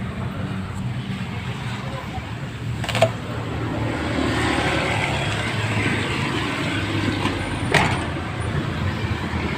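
A truck engine runs with a steady low rumble and broad mechanical drone, with a couple of brief sharp knocks, under nearby talking.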